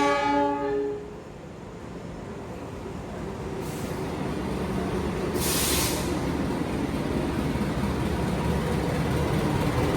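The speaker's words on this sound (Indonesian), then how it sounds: "Jalan Timur masuk kereta api Mutiara Selatan." A Mutiara Selatan passenger train pulls into an Indonesian station on the eastern track. The horn blasts briefly at the start, then a loud, steady roar of wheels and carriages rolls past close by, with a couple of hissing bursts partway through.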